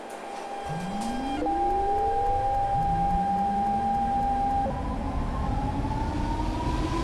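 An SMRT C561 metro train in Hmmsim 2 pulls out of Blackton Junction station. A motor whine rises steadily in pitch as it accelerates, over a constant rumble, with a steady tone sounding alongside and no voices.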